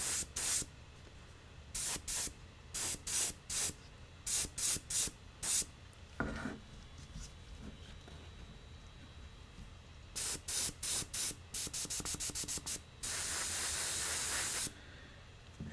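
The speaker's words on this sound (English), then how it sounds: "primed and base coated with the airbrush" An airbrush sprays primer onto a Warhammer 40k Necron Cryptek miniature in short hissing bursts, some brief and rapid, one longer blast near the end, between quiet pauses.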